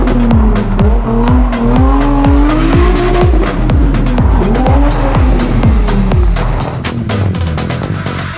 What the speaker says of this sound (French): Ah, le coup de frein à main, en fait, faut le mettre au bon moment.